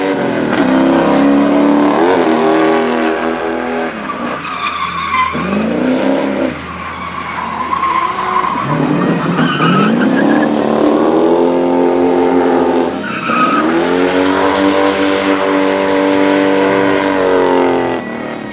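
A gutted BMW E30 set up for drifting screeches through long, loud tire squeals while its engine revs hard and rises and falls in pitch, continuous for the whole stretch with brief dips between slides.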